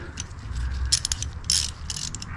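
A ratchet wrench clicking as a bolt is driven to fasten the header onto the cylinder head of an On3 turbo Mustang engine, quick bursts of close metallic ratcheting, no voices.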